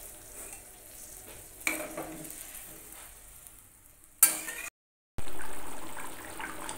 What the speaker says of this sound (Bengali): ঝোলটা ভালো করে ফুটছে